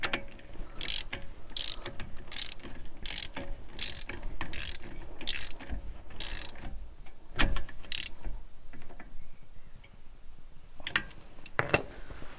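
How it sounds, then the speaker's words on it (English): Ratchet wrench clicking in repeated bursts while tightening the driveshaft bolts on a BMW with an M54 turbo build, using a 12-point 30mm socket; the pawl rattle is close and steady, with pauses between strokes and no talk. "Then you're just going to want to torque these down."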